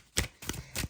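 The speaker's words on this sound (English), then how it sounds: "Let me shuffle the deck a little bit more." A deck of tarot cards is shuffled by hand in three quick, crisp riffling bursts, close and fairly soft with short pauses between them.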